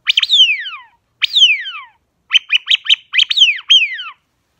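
A duck call imitates a female duck: two long, loud downward-sliding calls, then a quick run of short clipped notes and two more falling calls, all close and alone with no talk.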